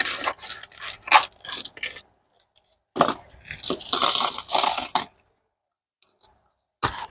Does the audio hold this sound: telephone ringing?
no